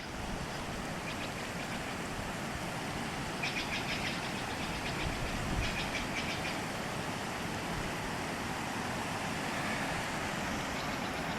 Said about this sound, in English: you can begin to hear the river